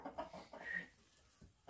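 A nervous hen clucks in a short, uneven run of a few calls, close by, with a brief pause before a final cluck; one of several egg-laying breeds kept together.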